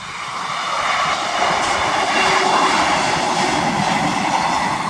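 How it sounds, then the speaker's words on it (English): A train passes on a railway line near waterfalls in the countryside, a continuous broad rumble that swells in loudness and stays close for several seconds with a faint rhythmic clatter of wheels. "There's the train now."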